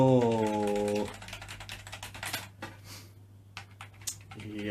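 Keys clack on a ZX Spectrum computer keyboard with a failed membrane, a run of quick, close, irregular taps after a brief tonal beep at the start, with no talking.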